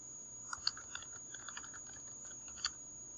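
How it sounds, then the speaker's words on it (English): Someone types on a computer keyboard in a quiet room, with a scatter of light, irregular key clicks and a few sharper taps, close and fairly soft, and no voices. "you ignore that and you keep typing anyway"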